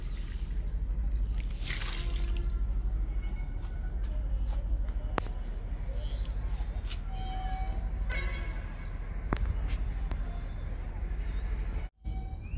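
Liquid fertilizer made from soaked papaya peels is poured onto potted plants, a soft, continuous trickle with scattered faint clicks and one brief drop-out near the end.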